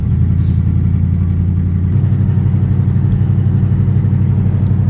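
A budget-build Ford Mustang engine at its first start, running steady and loud with a rough, rumbling idle and light revving throughout, close to the microphone with no talking.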